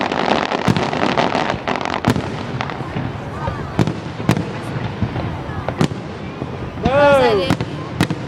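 Fireworks finale over downtown Dayton, Ohio: a dense barrage of loud booms and crackling bursts with a rising whistle near the end, while people talk over the display.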